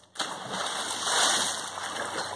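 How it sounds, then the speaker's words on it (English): A cannonball jump crashes into a cold outdoor pool, a sudden splash followed by churning, gushing water that stays loud and close for a couple of seconds. "Oh, you splashed me."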